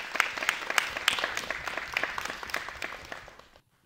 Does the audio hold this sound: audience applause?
yes